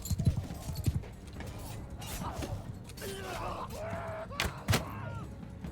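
Horse hooves clip-clop in the Mount & Blade II: Bannerlord video game, with a steady rhythmic trot under faint creaks and clanks, plus a couple of sharp thuds near the start and end.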